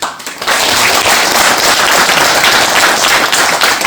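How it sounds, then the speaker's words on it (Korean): A big round of applause rises for officials at a Gyeonggi Province briefing on the Pangyo–Opo urban railway line, loud dense clapping that starts after a brief pause and holds strong to the end. "정말 크나큰 박수를 한번 보내고 싶습니다"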